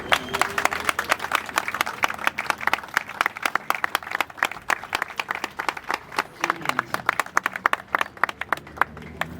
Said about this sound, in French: que nous nous levions pour applaudir l'artiste qui s'en va, pour dire bravo l'artiste.